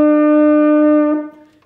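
French horn sounding a single A, played with the first two valves pressed in a band lesson: a clear, steady brass tone held for about a second before quickly fading out, alone and close.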